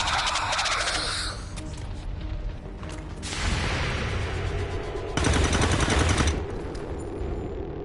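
Gunfire in XCOM 2 comes as loud, close rapid bursts of automatic shots, with a heavier volley near the end, layered over game sound effects and no talk.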